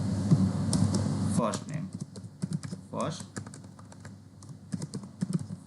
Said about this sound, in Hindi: यहाँ पर टाइप करते हैं